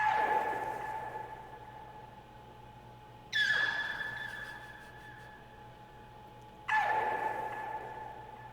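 Pitched-up vocal scream samples from a Nick Mira sample pack: three sustained, tonal wailing hits, each starting sharply and slowly fading, spaced evenly over a faint low drone.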